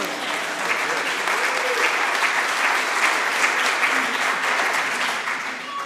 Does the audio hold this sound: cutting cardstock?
no